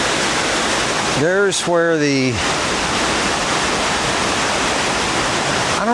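A creek near Springfield Falls rushes steadily in a loud, unbroken wash of water, with someone briefly talking over it near the start.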